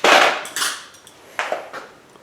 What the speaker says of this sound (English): I give it a little scratch. If I can show you guys that at all. And it scratches the plastic.